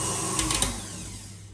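Electric hand whisk whirring steadily at close range as it beats sugar into homemade marshmallow fluff, a continuous motor buzz with a few brief clicks of the beaters against the bowl.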